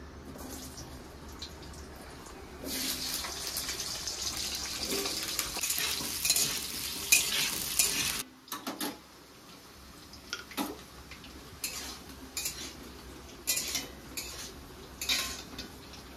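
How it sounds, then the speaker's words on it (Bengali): Cut potatoes fry in hot oil with dried red chillies in a wok, giving a loud, steady sizzle for several seconds, then quieter clinks of a utensil against the pan and softer frying, with no talking. "আলুটা হালকা ভাজা ভাজা করে নিয়েছি।"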